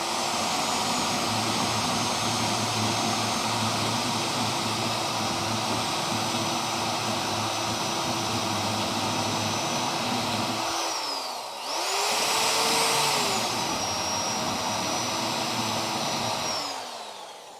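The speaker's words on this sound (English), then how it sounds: "See if we can grind that spot weld out." A rotary grinder with a burr bit grinds out a spot weld on a Charger crew cab project, a loud continuous high whine that dips and changes pitch briefly as it shifts against the metal, then resumes.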